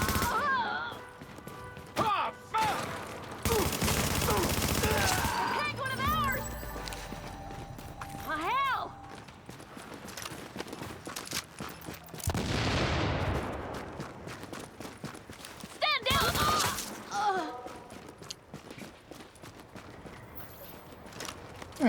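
Video game gunfire bursts out in loud broadband volleys among other in-game noises, with players talking over the action at times.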